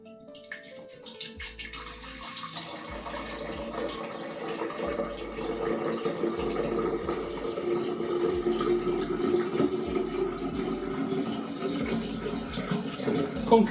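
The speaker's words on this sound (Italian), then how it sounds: "travasiamo l'acqua, la andiamo a sbroccare" Water poured from a plastic container into another vessel, a steady continuous splashing gush that swells slightly and runs unbroken throughout, close and fairly loud with no talk.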